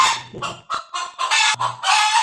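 Pet chickens at a city home clucking in a string of short, loud, close bursts with brief gaps, one bird's calls overlapping another's.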